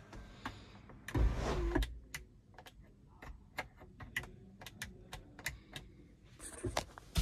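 A 2023 MG Hector's panoramic sunroof opens at one tap, heard from inside the cabin as a brief thump and then a close, quiet motor whir with rapid, regular ticking clicks.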